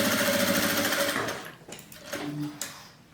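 Sewing machine stitching a seam along a marked line on a fabric pouch pocket, a steady close whirring run of about a second and a half that stops, followed by faint handling sounds.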